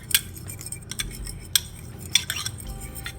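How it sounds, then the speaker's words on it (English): A spoon stirs seasoning for fish in a small bowl, a run of light, irregular clinks and scrapes close up, with no talking. "A dash of all this, and you mix this all together"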